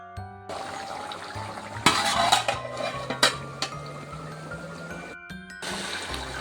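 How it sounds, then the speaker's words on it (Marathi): A plate is set as a lid over a pot of simmering crab curry, bringing a short cluster of clinks and scrapes against a steady background hum, then quieter settling. "तर चला तर आता प्लेट टाकून ठेवूया"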